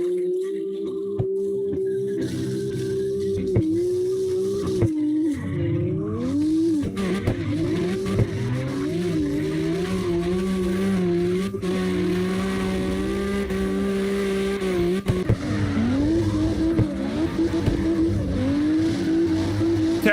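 A BMW drifts in the video game CarX Drift Racing. A high engine whine swoops up and down alongside long tire squeals, continuous and loud, with short breaks in the revs.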